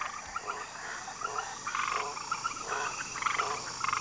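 Poison dart frogs calling in a steady chorus of repeated short croaks and chirps at moderate distance, over a constant background hiss.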